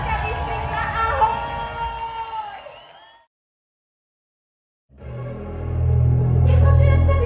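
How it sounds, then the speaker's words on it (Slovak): A concert audience in Banská Bystrica cheers and applauds loudly, with shouts and whoops over a dense crowd roar. It breaks into a short silence, then returns as a heavy, booming swell of noise. "dámy a páni, správne poriadny aplauz"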